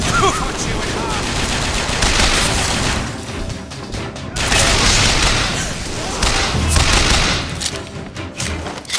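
A BioShock Infinite firefight: loud, close gunfire rattles in dense bursts, with heavy booms and a couple of brief lulls before the shooting surges again.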